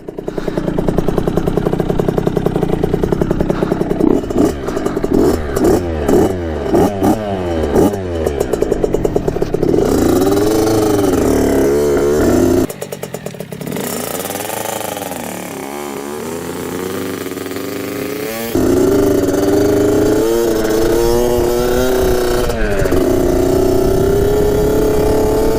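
A freshly rebuilt Kawasaki KX65 dirt bike ridden hard, its small two-stroke engine revving loud and close with rising and falling pitch sweeps through the gears, briefly easing off before screaming back up.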